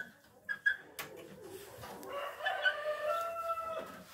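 Chickens in a henhouse, including white frizzle hens and guinea fowl, cluck and call nearby in short, pitched bursts that build into overlapping calls over a quiet yard, with no talking.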